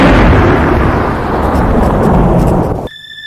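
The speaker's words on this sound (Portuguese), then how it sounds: "Subitamente, do céu claro, ouviram o som de um trovão." A deep, loud roll of thunder out of a clear sky rumbles and fades over nearly three seconds, then cuts off abruptly into quiet, with a few faint tones following.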